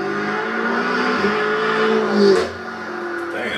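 BMW M5 F90 pulling hard under turbo boost, a steady loud engine drone heard from inside the cabin with a brief swell in revs, while a voice briefly exclaims over it.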